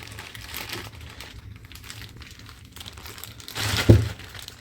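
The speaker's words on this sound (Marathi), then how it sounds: "आता हे पिशवी सोडायची हिला" Soft rustling and crinkling of a plastic bag being handled, building to a louder crackle near the end.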